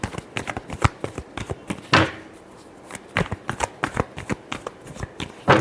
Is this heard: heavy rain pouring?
no